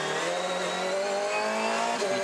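Onboard Supercar racing at Sandown, driven by James Golding: a loud, steady engine note held close to the mic, with rising and falling harmonic tones as it revs through the gears, alone without talk.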